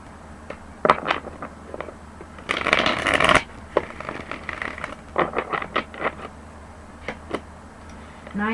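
Tarot cards being shuffled in several quick riffling bursts, with a longer, louder shuffle in the middle and soft taps and flicks between.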